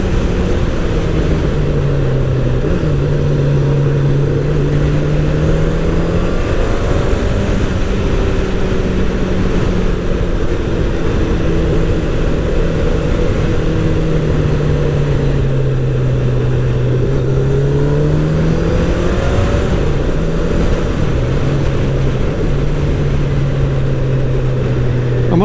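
Kawasaki ZZR1100 motorcycle engine droning steadily while riding, pitch rising and falling gently with throttle under heavy wind rush for the whole stretch.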